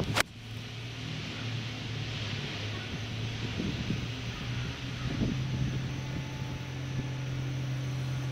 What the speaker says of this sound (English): the wind's picking up right in my face